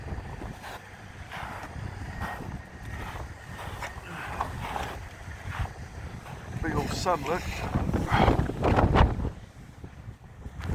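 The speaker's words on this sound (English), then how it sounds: "It's so thick and windy. So windy, man." Strong wind in New Mexico buffets the microphone with a steady, gusting roar, while someone speaks briefly over it.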